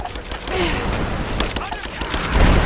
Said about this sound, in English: Give me suppressing fire now!